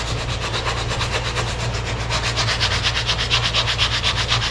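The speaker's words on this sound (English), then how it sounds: "I'm gonna take a little bit coarser sandpaper and I'm gonna rough that area up." Steady rhythmic scrubbing of coarse sandpaper roughing up the nose deck of a car body, repeated back-and-forth strokes close and fairly loud, with no talking.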